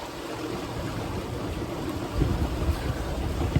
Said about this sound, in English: Really gusty, gusts coming down these valleys.